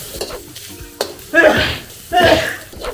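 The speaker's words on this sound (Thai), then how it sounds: "อ่าพอพริกเริ่มหอมแล้ว เราก็จะคลุกเบคอนไปเลยนะครับ" Bacon stir-fried with chili and garlic in a hot pan, two loud sizzling surges as the ingredients are tossed, with scraping and thumps of the utensil between them and someone talking nearby.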